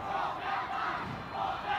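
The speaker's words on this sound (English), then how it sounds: "you can hear the crowd saying, hold that line" A college football crowd at a CWRU versus John Carroll game chants together in a steady, swelling rhythm, loud and sustained across the stands with no other voices over it.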